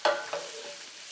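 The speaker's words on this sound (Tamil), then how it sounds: "வெங்காயம் போட்டு ஒரு 2 நிமிஷம் வதக்கி போக" Chopped onions sautéing in a pan for a coriander chicken curry give a quiet, brief sizzle, with a couple of soft stirring scrapes near the start before a steady low fry.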